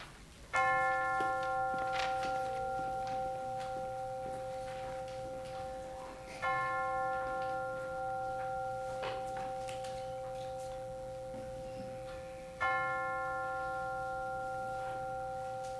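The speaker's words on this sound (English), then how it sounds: "let us center our hearts and minds with the ringing of the chimes" Chimes ring at a worship service, struck in three spaced clusters of sustained, overlapping bell tones that hum and slowly decay between strikes.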